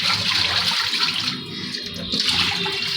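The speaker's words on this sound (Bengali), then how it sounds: "এখন এই নিচের বেসিনটা ধুয়ে দিই" Water runs steadily and loudly into a basin below while it is washed at home, a continuous gushing splash with no break across the clip.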